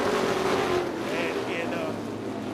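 Late model race cars roar around Waterford Speedbowl in a steady, loud engine drone with passing whines, a commentator talking over the noise.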